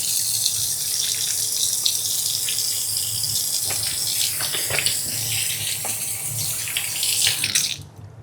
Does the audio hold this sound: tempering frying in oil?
no